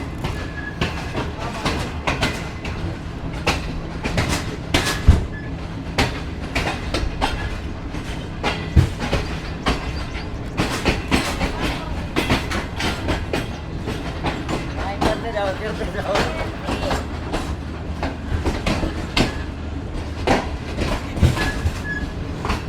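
The Shalimar Express pulls out of Nawabshah station, loud continuous rumble with repeated clickety-clack of wheels over rail joints and occasional squeals, heard from on board, with some voices faintly underneath.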